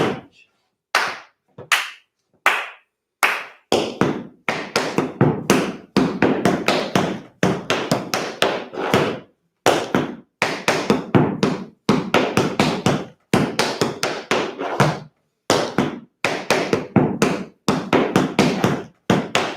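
Quick, crisp tap shoes strike the floor in a tap class led by Chicago tap master Lane Alexander, with scuffs, heel drops and toe taps in steady rhythmic bursts and a few short pauses between phrases.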